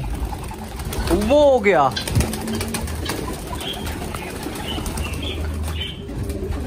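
Pigeons coo softly while wings flap in a loud burst near the start, with a person talking over the birds.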